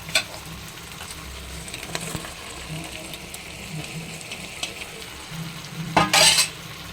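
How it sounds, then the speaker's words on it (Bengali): Prawns frying in a pan with potatoes, a quiet steady sizzle with scraping stir strokes and a louder burst of sizzling near the end. "এইবারে চিংড়ি মাছটা দিয়ে দিই"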